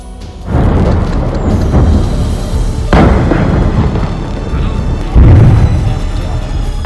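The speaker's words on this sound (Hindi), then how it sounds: "धमाका, जोरदार धमाका।" Loud, rumbling blasts and crashing booms from explosions at a chemical factory roll over a dense, continuous roar, with fresh impacts landing every few seconds.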